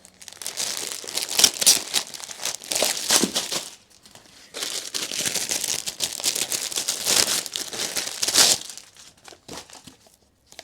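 Vacuum-sealed crinkle paper, packed hard as a rock, is handled close up with continuous dry crinkling and crackling in repeated bursts, some louder rustles among them, with a short quiet pause partway through.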